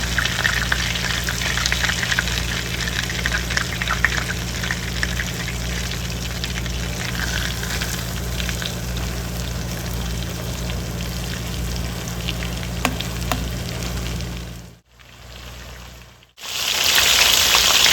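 Chicken pieces fry on high heat for chicken marsala, giving a loud, steady, dense sizzle that crackles like rain. The sizzle cuts out almost completely for about a second near the end, then returns at full strength.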